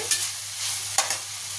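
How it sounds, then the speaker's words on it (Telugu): Shredded boiled cabbage frying in a pan over a high flame, a steady bright sizzle with a few light stirring scrapes and clinks, close and continuous without any talking. "హై ఫ్లేమ్లో వేపుకుంటే దీనిలో ఉన్న నీళ్ళన్నీ వెళ్ళిపోతాయి"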